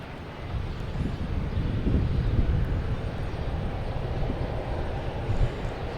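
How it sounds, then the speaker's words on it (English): A plane arriving from Cancun comes in to land at Boston Logan Airport, its engines a loud, low, rumbling roar that swells and holds steady, with some wind buffeting and no talk. "We got another Cancun flight coming in."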